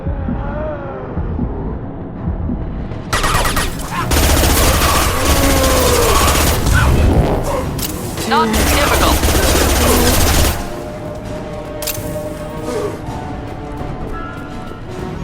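Sustained automatic gunfire and rumbling explosions in the Mass Effect 2 Legendary Edition video game, loud and dense for several seconds, then fading into a lower rumble with brief voices.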